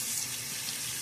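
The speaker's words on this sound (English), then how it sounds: "So I'm going to add just a little bit more water" A faucet runs to add water to shaving soap for lather, giving a steady, close hiss of flowing water that continues unbroken through the short moment without any voices.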